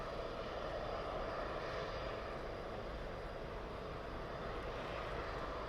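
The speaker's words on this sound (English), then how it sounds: "We've got that Aer Lingus Emerald Airlines ATR 72 on finals." An Aer Lingus Emerald Airlines ATR 72 turboprop on final approach to Birmingham Airport gives a faint, distant, steady broadband drone of engines and propellers, holding level throughout with no talk.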